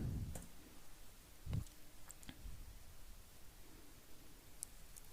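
A computer keyboard clicks with a few sparse, separate keystrokes, crisp and close but quiet, spaced unevenly across a near-silent room.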